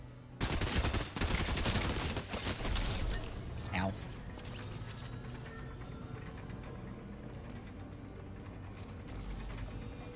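Bursts of SMG gunfire in a Fortnite match, loud rapid shots packed into the first few seconds, then fading into quieter mechanical clicks and game ambience with a voice talking.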